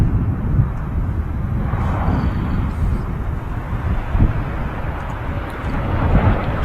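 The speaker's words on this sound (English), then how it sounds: "Touching down is Ryanair's base 737 MAX 8-200 EI-HEV, arriving from Copenhagen." A Ryanair Boeing 737 MAX 8-200 touches down at Manchester Airport, a steady broadband jet roar heard at a distance with wind buffeting the microphone throughout.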